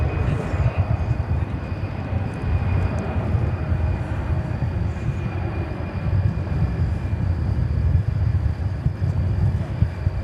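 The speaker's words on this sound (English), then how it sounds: "So there's a 767-300 dating back to the year 1988." A 1988 Boeing 767-300 jet airliner at DFW Airport, a steady, loud low engine roar that holds without break, with a voice talking over it.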